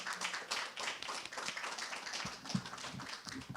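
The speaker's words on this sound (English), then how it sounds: "Let's give another round of applause to Keith Carter." An audience at a community conversation event claps for a speaker, a fairly steady patter of hands with a few sharper individual claps standing out toward the end.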